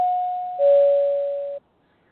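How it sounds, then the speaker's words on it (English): A two-minute warning bell on a Blog Talk Radio show rings as a clean electronic two-tone chime, a higher steady tone stepping down to a slightly lower one, lasting about a second and a half before cutting off to silence. "that was supposed to be the two-minute bell"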